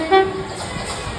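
A passing train sounds a loud horn toot near the start of a short burst, followed by rumbling rail noise close by.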